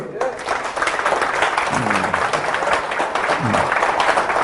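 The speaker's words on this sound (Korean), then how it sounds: "오늘 석가모니 탄신을 위해서 박수!" Audience applause at a Buddha's birthday talk, a steady wash of clapping from a crowd that holds throughout, with a speaker's voice and brief vocal sounds layered over it.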